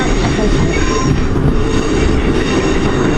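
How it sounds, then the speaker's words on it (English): Loud, continuous rumble of a train rolling on rails, with rattling wheels and a faint squeal throughout, heard from close by. "Train just coming in from London, probably from Brighton."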